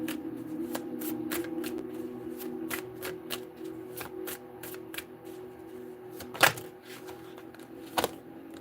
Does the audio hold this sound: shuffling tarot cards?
yes